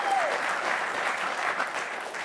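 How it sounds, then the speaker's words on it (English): Audience applause, a dense, steady wash of many hands clapping throughout the short span at fairly loud level, with no talking over it. "You can clap."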